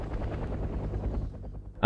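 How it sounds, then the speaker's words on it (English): Attack helicopters hover in the strategy video game Wargame: European Escalation. A low, pulsing rotor thrum fills the clip at moderate loudness and ends in a sudden loud burst. "I think attack helicopters still hover."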